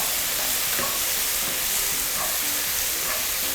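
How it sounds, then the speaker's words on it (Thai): Steady loud sizzling from a hot pan of mushrooms stir-fried with oyster sauce, with occasional stirring scrapes, continuous and close, no voices. "ผัดให้เข้ากันเลยค่ะ"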